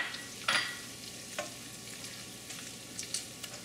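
Butter melts in a hot pan for longanisa fried rice, giving a steady soft sizzle with a few brief louder crackles and scrapes, close by and with no talk.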